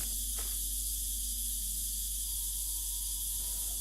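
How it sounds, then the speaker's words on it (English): Steady, faint hiss of steam escaping from pipes in The Dark Mod stealth game, a continuous airy wash with a thin hum beneath, heard alone with no talking. "We've got steam from the pipes."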